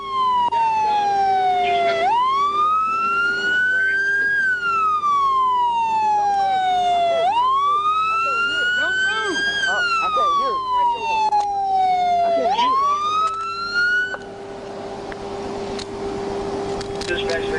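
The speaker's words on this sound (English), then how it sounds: "The biker claimed he couldn't hear the police sirens following behind him." A loud police siren wails up and down in long repeating sweeps, close by during a motorcycle chase, then cuts out near the end leaving road noise.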